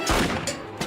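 In a Family Guy cartoon, a gun fires in a short, sharp burst, a close and loud crack with a second hit just after it.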